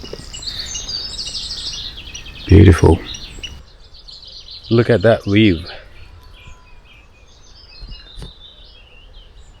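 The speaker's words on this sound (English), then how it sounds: "There's no one to be around, just the birds." Small birds chirp and twitter outdoors at sunrise, close and intermittent, while a person speaks briefly in a couple of short bursts.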